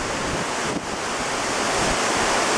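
Storm waves driven by Tropical Storm Ernesto splash against a seawall on the bay, a loud continuous roar of surf mixed with gusting wind buffeting the microphone, no voices.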